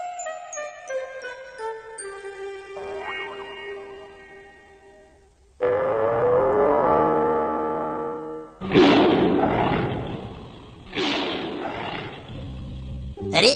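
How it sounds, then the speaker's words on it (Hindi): A tinkling descending chime gives way to deep, drawn-out roars, three loud bursts in a row, like a big cat snarling close by. "अरे, ये तो उसी टाइगर की आवाज है।"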